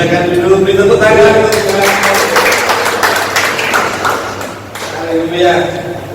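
A church congregation claps in a burst of applause that swells and then fades, following and preceding someone speaking close by.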